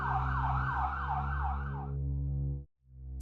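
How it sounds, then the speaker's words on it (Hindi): An ambulance siren wails in a fast, repeating rising-and-falling pattern over a steady low engine drone for about two seconds, then the siren stops and the engine cuts out abruptly. "एम्बुलेंस से लोगों को अस्पताल पहुंचाया जाता है।"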